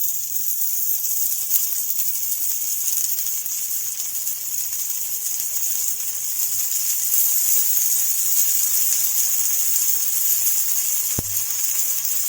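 Cooking oil sizzles steadily around a jowar flour dosa on a hot pan, a loud, even frying hiss that carries on throughout with one brief knock near the end.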